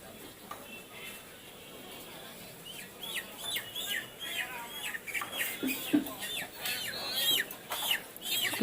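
Live chickens cluck and squawk at a busy market chicken shop, scattered calls rising over a steady murmur of shoppers and background voices.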